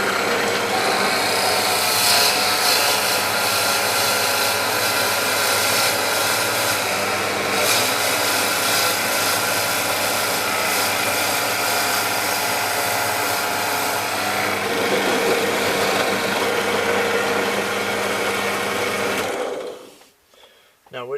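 A power drill bores through a metal plate backed by a piece of wood, a loud, steady whining grind running continuously for about twenty seconds before cutting off abruptly near the end.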